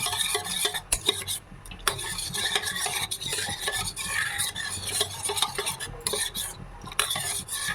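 Custard powder being stirred into custard in a pot, a close, continuous scraping and swirling of a spoon with occasional clinks against the pan, no voices.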